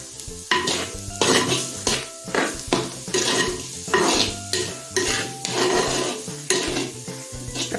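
A spoon stirs and tosses cabbage in a hot pan in a steady rhythm of scraping strokes roughly every half second, with a light sizzle underneath, close and fairly loud, no voices.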